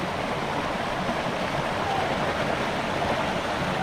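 A fast, clear mountain stream in the Gokal Dev area of Balochistan, a constant dense rush of flowing water filling the whole clip, steady and close, without talk.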